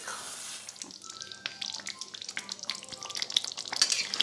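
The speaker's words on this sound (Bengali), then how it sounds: "এবারে মাংসটা আমি খুব ভালো করে কষে নেব।" Marinated mutton is sautéed in a pan for Bengali kosha, with close, fairly soft sizzling crackles and scraping stirs that grow busier and louder toward the end.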